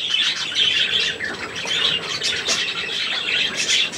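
Close, loud gull calling, repeated squawking cries in uneven bursts with no talk over them.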